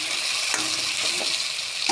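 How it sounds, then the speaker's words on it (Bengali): Chopped onion and tomato paste stirred in a hot pan for a fish-head and potato curry, a steady close sizzle with a few scraping strokes of the spoon. "দিয়ে দেবো পেঁয়াজ কুচি, দিয়ে নাড়াচাড়া করতে রাখবো"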